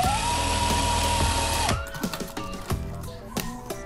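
A sewing machine stitches fabric with a steady, close mechanical whir for under two seconds, then stops abruptly. Scattered clicks and light handling knocks follow.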